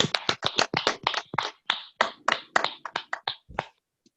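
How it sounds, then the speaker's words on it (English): Scattered applause from a small audience after a pastor's sermon on anger management, a handful of distinct, uneven claps that thin out and stop. "Please, let's give him a round of applause for that powerful presentation"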